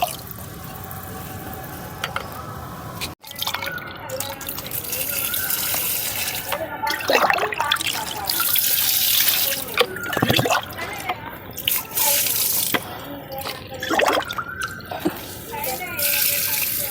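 Diluted fertilizer water poured onto ridge gourd plants, heard as splashing and dripping liquid in bursts, with a person talking over it throughout.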